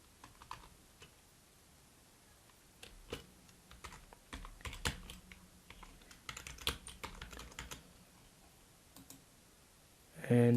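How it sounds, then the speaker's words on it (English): Clicky keystrokes on a computer keyboard tapped in short irregular bursts at close range, with a louder clattering flurry toward the end and no voice over it. "Oh, my keyboard."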